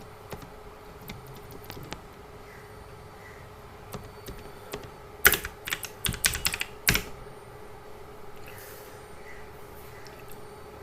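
Keys tap on a computer keyboard, at first sparse and soft, then a quick burst of louder typing midway, before settling back into quiet, scattered clicks.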